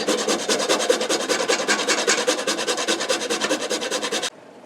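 Whole nutmeg is grated for a sauce in a home kitchen, making a fast, even run of close, dry rasping strokes. The strokes stop abruptly near the end, leaving near silence.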